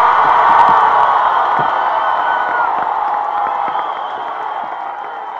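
A large audience applauds and cheers at a public speech, making a steady, loud wash of clapping and crowd noise that holds throughout and slowly fades toward the end.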